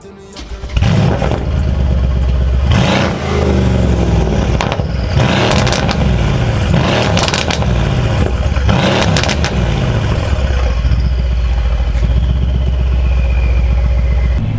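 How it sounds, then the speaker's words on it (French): A Mercedes C63 S AMG with a modified exhaust line revs loudly and up close, with repeated throttle blips and rising engine roars, sharp pops in between and a steady rumble throughout. "on a changé la ligne d'échappement, donc ça fait un bruit qui est juste phénoménal"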